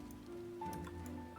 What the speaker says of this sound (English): We can quite clearly tell it's raining.